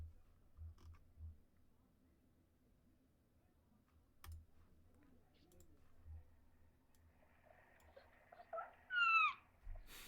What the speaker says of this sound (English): I want you guys to hear Uni's meow